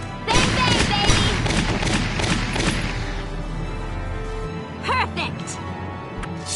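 Gunfire in the war game Valkyria Chronicles, a rapid burst of loud shots and booms in the first half, then sparser impacts with voice-like game sounds, fairly close and dominant.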